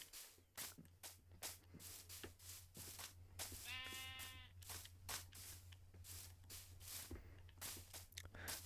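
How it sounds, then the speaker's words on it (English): A single Minecraft sheep bleats in a short wavering burst midway, over steady game ambience and repeated soft crunching footstep sounds. "I heard a sheep."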